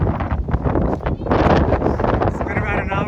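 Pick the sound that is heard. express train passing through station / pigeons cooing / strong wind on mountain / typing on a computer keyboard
strong wind on mountain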